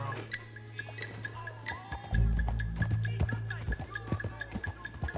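A horse's hooves clip-clop at a steady walking rhythm in Red Dead Redemption 2, close and moderately loud over a low rumble of game ambience.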